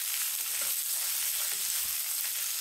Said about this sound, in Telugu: ఉప్పు వేసి బాగా పిసికి పిండేసిన దొండకాయ ముక్కల్ని వేసేద్దాం.